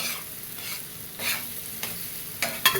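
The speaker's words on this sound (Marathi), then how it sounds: "मला कच्चापणा जाईपर्यंत पूर्ण परतून घ्यायचं" Onions sautéed in a pan for egg bhurji, with rhythmic scraping stir strokes roughly every half second over a constant close sizzle, growing a little louder toward the end; no voices.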